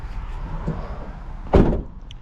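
A van's sliding door rolls open once, close by, as a short rumbling slide over a low background hum.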